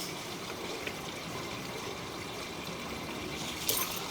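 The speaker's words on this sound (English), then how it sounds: "We got water running now." Water rushes through a drain line being flushed, a steady, moderately quiet hiss and trickle that continues unbroken, with a brief splashy surge near the end.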